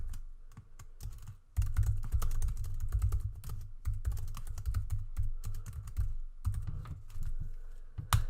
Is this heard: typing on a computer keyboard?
yes